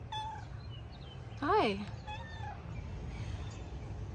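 A cat in a small urban front-yard garden gives one short, rising-and-falling meow, close and clear, among faint bird chirps and light outdoor background noise, with a brief spoken greeting nearby.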